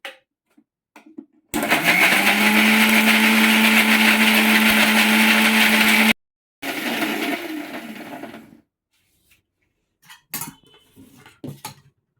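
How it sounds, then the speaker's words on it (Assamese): An electric mixer grinder grinds coconut, starting abruptly into a loud, steady motor whine for several seconds, cutting off, then running again in a shorter burst, followed by faint clinks of the jar. "মিক্সিৰ বাতিত নাৰিকলখিনি দি নাৰিকলখিনি গুড়া কৰি লওঁ।"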